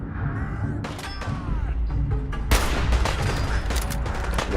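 A fast volley of gunshots from the Fallout 4 video game rings out, crisp close cracks and thuds stacked over a busy combat background, loudest after a sharp burst midway.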